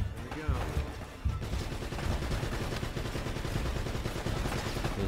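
Rapid bursts of turret gunfire from the video game Uncharted: Drake's Fortune rattle through a fortress battle, dense automatic shots overlapping with game effects at moderate level.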